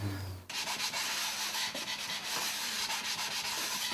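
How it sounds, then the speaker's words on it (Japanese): Hand-sanding and polishing the corners of Kyoto urushi lacquerware, a steady close rubbing and scraping with rhythmic strokes that carries on throughout, following a brief low hum at the start. "角を研ぐ。"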